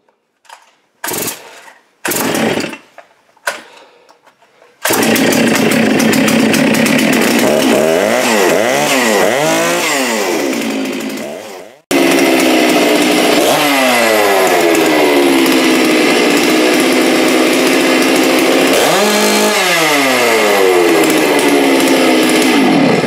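Farmertec MS660 and Holzfforma G660 chainsaws bucking logs: a few short pulls and sputters, then loud sustained engine roar with rising and falling revs as the chain cuts, briefly cutting out and restarting.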